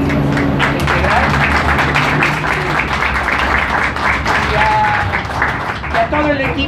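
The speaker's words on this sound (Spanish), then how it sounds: "quiero pedir un aplauso fuerte a Capi, Centro de Integral" An audience at a psychology conference at CAPI Tecámac gives a strong round of applause, with dense, close hand claps running throughout and voices talking over them.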